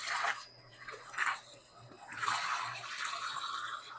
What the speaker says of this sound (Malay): Sekarang kita masukkan santan segar.